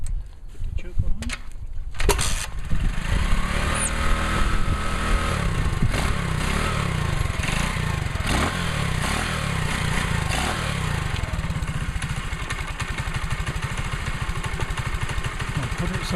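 A small motorcycle engine, first started after winter with the choke on, catches and then runs steadily in a loud, continuous, close-up drone.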